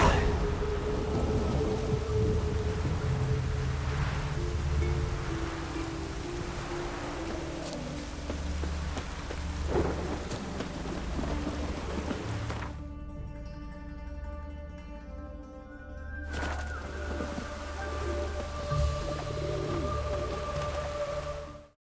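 Steady rain pours with deep thunder rumbling through a stormy night in The Witcher 3: Wild Hunt, the downpour continuous and fairly loud, with a brief quieter dip midway before the storm swells again.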